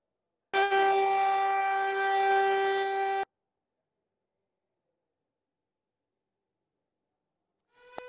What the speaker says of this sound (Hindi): सायरन की आवाज जो लगातार आसमान से सामने आ रही है वो भी सुन रहे हैं।